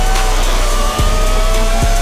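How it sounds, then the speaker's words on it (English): A Lamborghini Aventador engine running loud and close, a dense continuous roar with slight rises in pitch across two seconds. "Then, Lamborghini Aventador."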